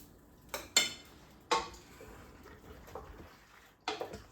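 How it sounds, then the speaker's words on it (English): Pasta being stirred with meat sauce in a pot: a few sharp, close metallic clinks of a utensil against the pot over a soft wet background, quiet and spaced out. "I just lightly stirred the pasta in the pot with a little bit of sauce just to coat it"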